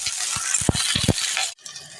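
Small washed cauliflower pieces frying with onion in a pan, a close sizzle with several quick spatula knocks and stirs before the sound suddenly drops to a quieter hiss.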